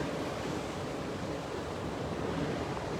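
Constant coastal wind at Putty Beach in Bouddi National Park, past low coastal scrub: a steady, loud, unbroken roar of broadband rushing noise with no voices.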